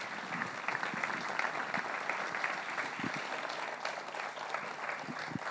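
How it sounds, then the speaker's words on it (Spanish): Audience applause at a homage ceremony for emigrants during a town festival in Araya, a steady dense clapping held at an even level throughout with no talk over it. "un aplauso fuerte para la Comisión de Fiestas"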